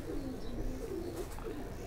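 Pigeons of a Ferozpuri and Faqeergull mixed breed coo in a low, soft, repeated phrase close by, with a steady background hum and no talking.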